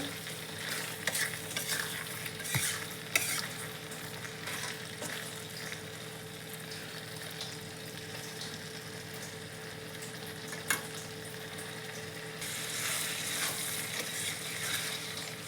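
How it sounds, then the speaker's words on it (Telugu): Chicken frying in a pan on a stove, a steady close sizzle with frequent scraping stirs and a few sharp clinks, running alone without any talk. "ఇంకో ఫైవ్ మినిట్స్ లో ఫ్లేమ్లో వేయించుకుంటే ఫ్రై రెడీ అయిపోతుంది"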